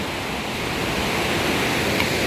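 Roaring Ganges river in Uttarakhand, a loud, steady broadband rush of turbulent water filling the scene without pause, close and continuous with no voices.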